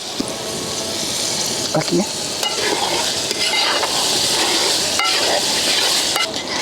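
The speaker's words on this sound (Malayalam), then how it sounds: "ഇനി നമുക്ക് തേങ്ങാപ്പാൽ കൂടി ഒഴിച്ചു കൊടുക്കാം" Coconut milk is poured into a simmering gravy in a pan, giving a continuous, close wash of liquid hiss and bubbling with occasional clinks of utensils.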